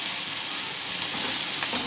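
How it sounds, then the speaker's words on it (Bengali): Prawns fry in a hot pan, a loud, continuous crackling sizzle that holds steady and close, with no talking. "আর এদিকে চিংড়ি মাছ ভাজা হচ্ছে"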